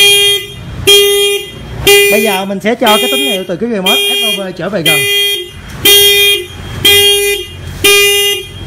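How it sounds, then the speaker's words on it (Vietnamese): A 2018 Honda SH scooter fitted with an anti-theft alarm blares its horn in loud, repeated evenly spaced honks, broken midway by a warbling siren-like tone, while someone talks over it nearby. "Sử dụng tiếng kèn xe để cảnh báo cho nó lớn."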